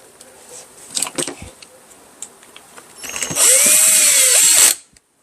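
Screws are tightened on a Stihl 210 chainsaw: scattered clicks and metallic taps from hand tools, then a loud, steady whir of a power driver running for over a second before cutting off abruptly.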